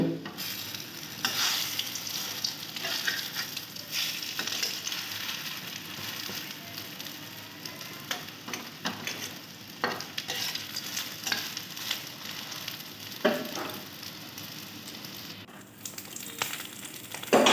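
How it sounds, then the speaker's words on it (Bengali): Egg-battered potato sandwiches frying in a pan, a close, steady oily sizzle with frequent crackles and occasional scraping stirs, no voices. "ডিমের ব্যাটারে চুবিয়ে চুবিয়ে ভেজে নেব"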